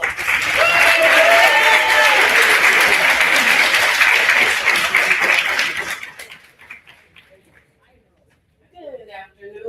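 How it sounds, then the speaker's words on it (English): Loud audience applause welcomes a speaker to the stage at a peer empowerment conference, with scattered cheers and voices over about six seconds before fading out; a voice then starts speaking. "can we give her a round of applause?"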